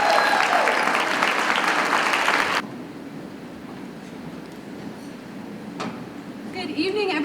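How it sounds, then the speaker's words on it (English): Audience applause for Miss America pageant candidates at the 100th anniversary event, loud and dense for about two and a half seconds before dropping away to room murmur. "Let's give them a round of applause."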